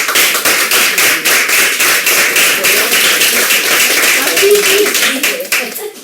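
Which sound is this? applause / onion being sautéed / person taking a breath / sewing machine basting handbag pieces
applause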